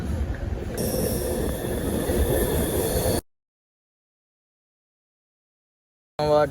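A train pulling into a railway junction rolls loudly with squealing wheels for about three seconds, then the sound cuts out abruptly before a brief burst returns at the end.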